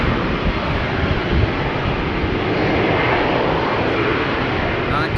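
An Embraer jet at Amsterdam Schiphol Airport gives off a steady, loud engine roar that holds evenly with no break, broad and close, while a voice speaks over it.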